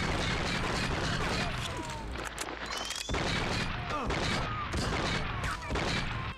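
Rapid gunfire from a newly acquired gun in an open-world police video game, dense and loud bursts of shots filling the stretch with brief gaps, game effects and sound layered underneath.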